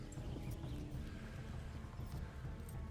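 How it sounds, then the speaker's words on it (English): A horse gallops in the video game Kingdom Come: Deliverance, with rapid, steady hoofbeats under a low rumble that carries on through the whole short stretch. "Come on, horsey."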